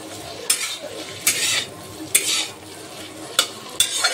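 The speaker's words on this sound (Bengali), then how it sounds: "পেঁয়াজগুলোকে ঢেলে দেব। আর তারপর এটাকে ভালো করে একবার নাড়াচাড়া করে নিতে হবে" Large onion pieces fry with other vegetables and spices in a pan and are stirred. A soft sizzle runs throughout, and five sharp scraping strokes of a spoon against the metal sound close and regular.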